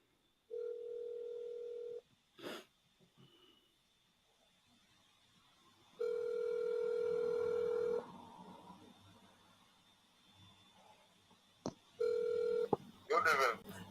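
Telephone dial tones and DTMF keypad beeps from a live call-in radio broadcast line, steady tone bursts separated by pauses with a few short clicks, clear and moderately loud with no talk over them.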